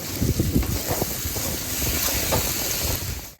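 Steady wind blows and buffets the microphone with a broad, rushing hiss, gusting near the start and then holding fairly even throughout.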